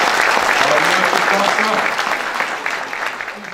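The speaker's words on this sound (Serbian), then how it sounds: "Ovaj aplauz je bio za direktorku Biljanu Ivanović." A crowd at a formal city day ceremony in Leskovac applauds the school director, steady dense clapping that stays loud and close throughout, with a few voices mixed in under it.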